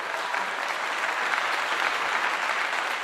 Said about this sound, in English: I give them a clap.